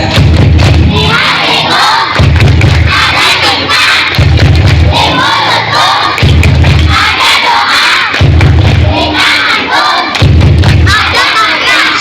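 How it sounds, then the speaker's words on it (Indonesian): A crowd of children chants and shouts in unison as a rhythmic success-clap cheer, with loud regular bursts of clapping and stamping repeating roughly every two seconds, close and energetic. "Yuk yang semangat ya, tepuk sukses."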